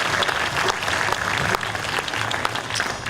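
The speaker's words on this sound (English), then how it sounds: "Please give a round of applause for everybody helping make this happen tonight." A concert audience applauds steadily and loudly after a set, with dense, continuous clapping that holds throughout.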